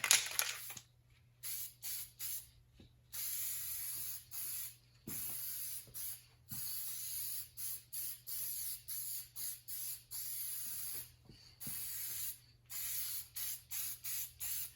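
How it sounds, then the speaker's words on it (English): Short bursts of spraying on the underside of a Porsche 911, repeated in a steady on-off rhythm, close and fairly loud, with brief quiet gaps between them and no talking. "we might as well just keep on spraying."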